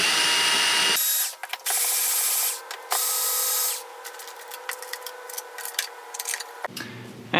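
A power screwdriver backs out M5 screws from the motor controller of a DIY electric longboard. There are several short, loud buzzing bursts separated by brief pauses, followed by quieter clicks and handling noises.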